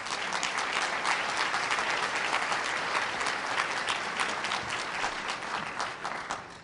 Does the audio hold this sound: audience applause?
yes